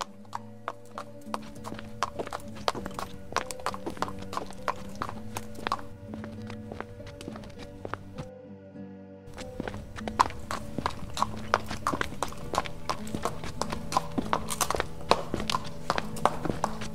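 Horse hooves clip-clopping at a steady walking rhythm in the online game Star Stable Online, clear and close over looping background music, with a short drop-out partway through.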